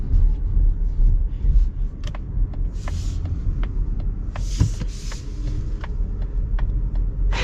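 Cabin sound of a 2025 Mazda CX-50 Hybrid driving on the road, a steady low rumble of road and powertrain noise with scattered small clicks and brief hissy bursts, no talking.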